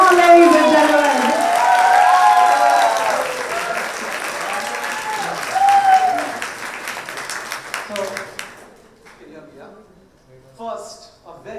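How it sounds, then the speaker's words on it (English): An audience at an awards ceremony breaks into loud, sustained applause for a recipient walking on stage, tapering off after several seconds, with talk over the clapping and a little cheering. "I want a thunder applause"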